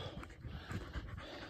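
Dutch shepherd dog panting nearby, quick rhythmic breathy huffs repeating several times a second, faint and close, with no talking.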